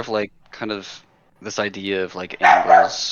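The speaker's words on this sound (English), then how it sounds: "sorry my dog's barking" A dog barking in a home, a few short yips heard faintly in the background beneath steady close-up talking.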